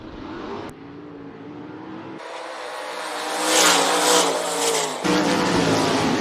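IMCA sprint cars race on a speedway, loud engines snarling and revving as they pass close by, the roar rising and cutting off abruptly with shifts in pitch.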